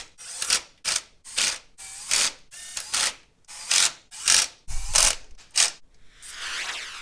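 Ratchet wrench tightening the sprocket cover bolts on a BMW G310 motorcycle, about a dozen sharp clicking bursts in a quick, even back-and-forth rhythm, close and loud with no talking.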